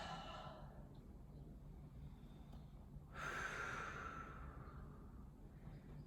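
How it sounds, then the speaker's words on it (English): Slow, deep yoga breathing in downward dog, a faint drawn-out exhale swelling mid-clip over quiet room noise. "Breathing here."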